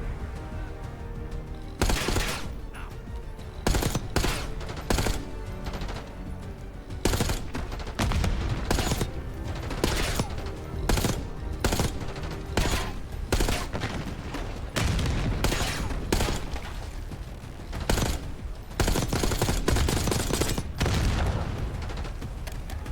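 Sustained gunfire in the video game Call of Duty: Black Ops 6, with rapid automatic bursts and heavy single shots firing close and loud almost without pause, some booming impacts mixed in.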